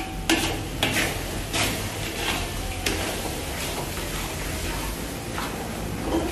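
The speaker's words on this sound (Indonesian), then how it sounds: "Tumis sampai harum." Rendang beef spice paste sautéing in a pan, a loud continuous sizzle broken by repeated scraping stirs and occasional spatula knocks against the metal, with no talking.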